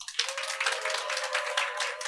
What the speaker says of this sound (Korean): 우리 3-1부님 선생님들께서 박수를 크게 쳐주셔서